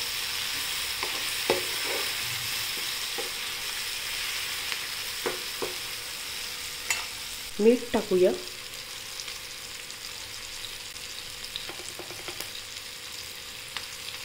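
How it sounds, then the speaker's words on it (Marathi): A tomato pithale mixture with turmeric and salt sautéing in a pan, a faint continuous sizzle broken by scattered scrapes and taps of stirring, a couple of them louder near the middle. "आता आपण छान परतून घेऊया"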